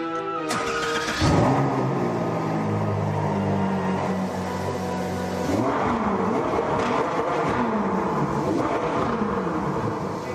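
A sports car engine idles and then revs hard in repeated throttle blips, its deep rumble rising and falling in pitch, loud and close.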